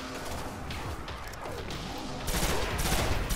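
Rapid gunfire in the Destiny game hammers at an enemy's shield, a dense, loud stream of shots growing harsher in the last second, with no talk.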